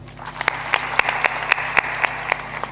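An audience at a spiritual discourse claps in a steady, rhythmic unison of sharp claps, roughly four per second, with a faint background hum.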